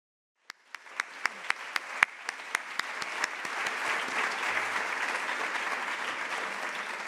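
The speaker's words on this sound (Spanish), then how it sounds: "Un aplauso." Conference audience applauding after an opening address, starting with a few distinct claps that quickly build into sustained, dense clapping from a sizable room, steady and moderately loud to the end.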